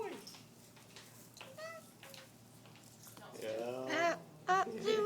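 A pet cat gives a few short meows near the end, mixed with soft voices of children and an adult talking in a home.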